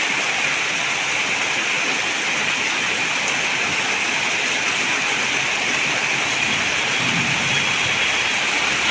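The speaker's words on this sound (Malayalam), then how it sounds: "നല്ല സ്ട്രോങ് മഴയാണ് കേട്ടോ." Heavy rain pouring down steadily, a constant loud hissing wash of water with no break or other sounds.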